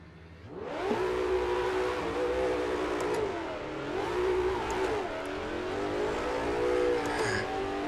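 A high-power car, James Bond's dream car, accelerates hard with traction control off, its engine note rising and falling through the gears with the tyres scrabbling for grip, loud and close, no talking.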